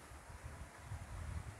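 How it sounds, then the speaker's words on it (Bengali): Strong, cold gusts of wind roar low and rumbling against the microphone outdoors in Sabbiya village, Moulvibazar, in a brief, faint burst with no voices. "এই যে তুফানের মতো বাতাস, ও এই যে তুফান।"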